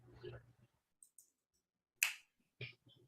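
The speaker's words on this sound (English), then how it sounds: "snap your fingers" A couple of sharp finger snaps ring out in quiet, following a brief murmur of speech at the start.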